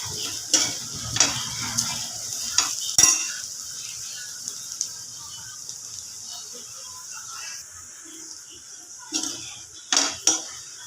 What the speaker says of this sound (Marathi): कांद्याला सारखं फिरवत राहायचं, कारण की आपल्याला त्यांना एकसारखं भाजायचं सगळ्याला क्रिस्पी होण्यासाठी